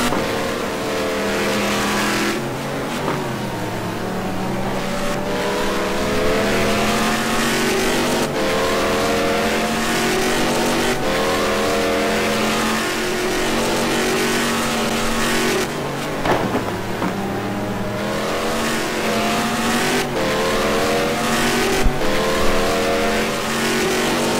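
A Ford Mustang GT2 race car in a racing video game screams through an opening qualifying lap at Donnington, its engine loud and continuous with rising and falling revs as it shifts through gears, with no voices.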